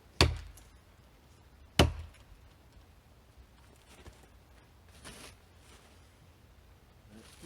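A 4.5 pound Shapleigh Hardware axe chops into a log in two sharp, heavy test blows about 1.6 seconds apart, followed by quieter knocks and rustling.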